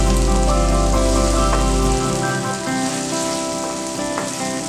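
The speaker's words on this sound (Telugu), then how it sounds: "అల్లం కాస్త పచ్చివాసన పోయేంత వరకు వేయించుకోవాలి." Ginger paste fries with onions in hot oil for a drumstick chicken curry, a loud dense sizzle with a low rumble that cuts out after two seconds, leaving a lighter crackle.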